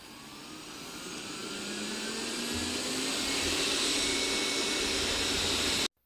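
A Roborock S5 Max robot vacuum runs in high power mode, its steady whooshing whine building in loudness before cutting off abruptly.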